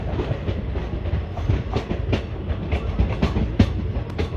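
The Delhi–Jodhpur superfast express rolls onto the main line, a steady rumble with repeated clickety-clack of wheels over rail joints heard close from on board.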